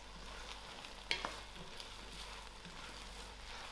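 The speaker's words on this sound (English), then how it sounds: "I'm going to add this into the cooking. Give this a mix." A spoon stirs a pot of chilli hot sauce mixture during cooking, making a faint, steady scraping hiss with one brief utensil clink early on and no voices.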